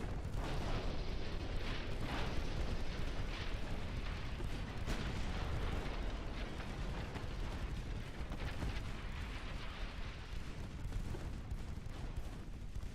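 Torpedoes hitting warships in a naval strategy video game, a dense stretch of deep rumbling explosions and booms rolling continuously with steady heavy low-end roar, no talking.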